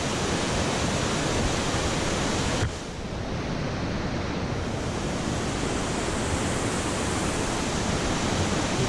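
Loud, dense rushing roar of a waterfall pouring out of a small gorge with mist, constant broadband noise that dips briefly partway through, then resumes steady and full.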